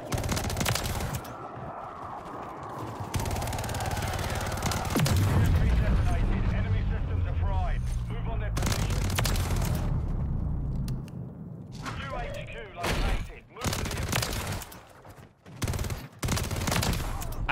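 Gunfire from a Call of Duty MW3 gunfight: dense bursts of automatic rifle fire and impacts, loud and close, broken by short pauses, with a player talking over parts of it.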